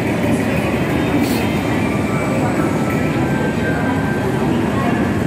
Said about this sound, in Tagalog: padating pa lang ang train